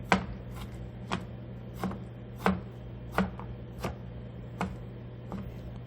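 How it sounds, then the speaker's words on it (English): A knife chops an ingredient for beef chili on a cutting board, about nine crisp, evenly spaced thuds close up over a faint steady hum. "So I'll get my knife, do a little chop chop chop."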